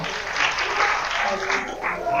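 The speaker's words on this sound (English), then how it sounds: "a round of applause once more" Steady applause from a crowd, clapping continuously at an even level throughout, fairly close with no pauses.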